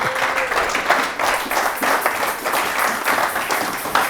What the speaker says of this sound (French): Ah, tu peux acclamer le Seigneur.